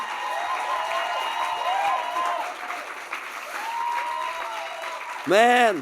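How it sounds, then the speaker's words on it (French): A live podcast audience applauds Kim and Mike, steady clapping mixed with crowd noise and a voice over it throughout, ending in a short burst of loud electronic squeal. "gardez vos applaudissements, s'il vous plaît, pour Kim et Mike"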